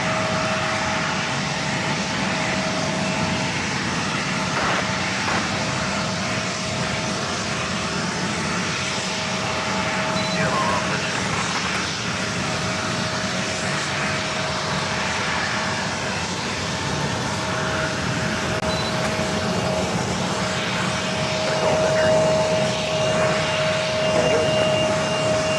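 An Airbus A320 jet rolling down runway 4 left at JFK, a loud sustained engine roar with a steady whine and rumble, swelling slightly toward the end, heard alone from a distance.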